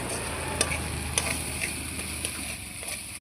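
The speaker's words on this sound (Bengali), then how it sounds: "মশলাটা ভালোভাবে কষিয়ে নিচ্ছি।" Spices fry and get stirred in a pan while cooking vegetarian dahi potol (pointed gourd in yogurt gravy), a steady sizzle broken by periodic scrapes and taps of the spatula against the pan.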